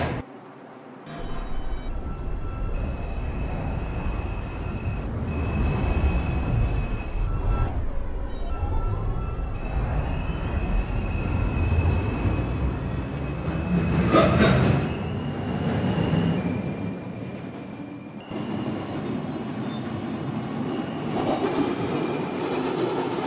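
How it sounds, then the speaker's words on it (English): A Manhattan-bound New York City subway 4 train rolls along, heard from inside as a continuous rumble with rattling, clattering wheels, whining motors and a screeching swell midway. "This is a Manhattan-bound 4 train."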